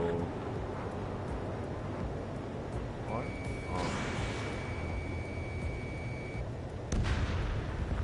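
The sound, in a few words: anti-aircraft gunfire in a video game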